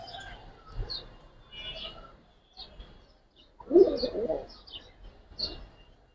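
A pair of Bagha Makhra pigeons coo in short, soft bursts separated by quiet gaps, with a few higher chirps mixed in close by.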